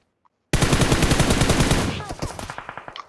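Rapid automatic gunfire in a Bird Box video game, a loud dense burst of evenly spaced shots after a brief silence, thinning into slower separate rounds toward the end, with no talk.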